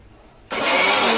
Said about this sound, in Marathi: मिक्सर लावून घेऊ आपण.